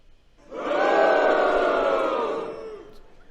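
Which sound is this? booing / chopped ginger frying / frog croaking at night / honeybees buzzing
booing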